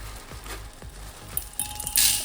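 Soya chunks fry in a pan, giving a soft, steady sizzle with a few gentle stirring squishes and a brighter burst of crackle toward the end, close and moderately loud.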